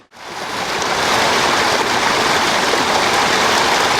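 A constant rushing of falling water from a garden water feature's main waterfall, flowing about 10,000 gallons per hour, full and steady, starting abruptly and continuing without a break.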